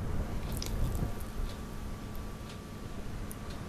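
Footsteps crunch on coarse beach pebbles by the old harbour of the fishing village of Auchmithie in Angus, Scotland, steady and close over a constant outdoor rush of wind.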